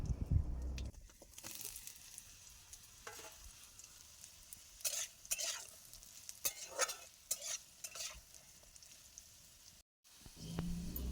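Potatoes frying in hot oil with bay leaves and panch phoron, a steady sizzle broken by repeated bursts of stirring and scraping in the pan, close and fairly loud with no talk.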